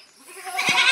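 Kota breed goat bleating on a farm during morning milking, a single short nasal bleat swelling up near the end, close and fairly loud.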